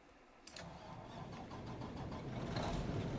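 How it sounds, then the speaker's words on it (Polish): A Claas Lexion combine harvester in Farming Simulator 25 cranks and fires its engine, a rising mechanical rumble that settles into a steady, growing idle, heard close and alone. "To słuchajcie, jak on odpala ten silnik."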